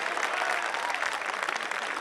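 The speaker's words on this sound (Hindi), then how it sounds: "एक बार अपने कॉलेज के मैनेजमेंट के लिए और स्वयं आप अपने लिए जोरदार तालियां बजा दीजिए।" An audience at a Kavi Sammelan poetry gathering in Ghaziabad claps steadily, a dense wash of many hands filling the whole short stretch at moderate distance, with no talk over it.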